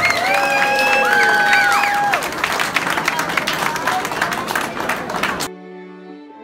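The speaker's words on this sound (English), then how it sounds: "Give yourselves a round of applause." Loud applause and cheering from a crowd at an evening celebrity chili cook-off, dense clapping with shouts and whistles over a busy room, fading out abruptly near the end.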